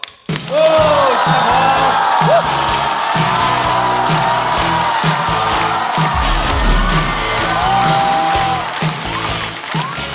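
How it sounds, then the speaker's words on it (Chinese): A studio audience breaks into loud, sustained applause and cheering with whoops as a comedian named Shanhe is welcomed onto a stand-up stage, the clapping filling the room steadily throughout. "掌声欢迎福气满满的山河。"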